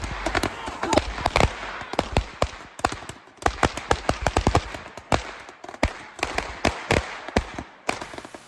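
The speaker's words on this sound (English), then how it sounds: "We played with fireworks." Fireworks set off on New Year's Eve, a rapid string of sharp cracks and pops in irregular bursts, some close and loud, with brief gaps, and voices faintly in the background.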